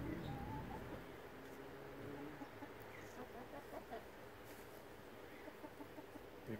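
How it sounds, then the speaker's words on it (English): Chickens cluck softly in the distance, scattered short calls over quiet outdoor background noise. "Here come the chickens."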